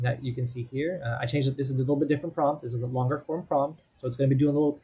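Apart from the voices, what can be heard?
No distinct noise like a dog, phone or traffic.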